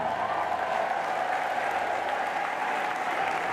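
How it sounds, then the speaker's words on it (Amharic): A church congregation applauds and ululates in praise during Ethiopian worship, a dense, steady wash of clapping that holds at an even level throughout. "ያመነ ሰው እልልታ ጭብጨባ ለጌታ"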